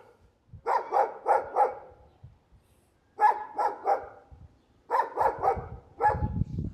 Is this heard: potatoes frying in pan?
no